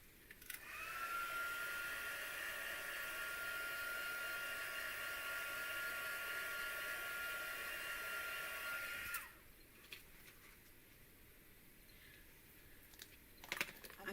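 A heat tool blows steadily for about nine seconds to warm Versamark embossing material at a craft table, a whirring hiss that cuts off abruptly, leaving quiet room noise and a few small clicks.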